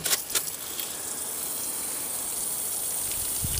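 Hot water pours steadily from a small shower unit, a constant close hiss and gush that is briefly broken by a couple of splashes near the start.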